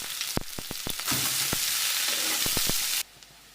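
Finely chopped onions, one big and one small, hit a hot pan with bay leaf and sizzle steadily for a couple of seconds, framed by sharp clicks and taps of a utensil before and after.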